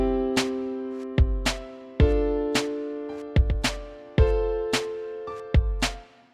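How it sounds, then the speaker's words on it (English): A cloned FL Keys piano chord panned left and right, repeated in a steady rhythmic pattern with low bass hits under some strikes, sounding clean and isolated. "I decided to copy that chord, clone that chord in FL keys,"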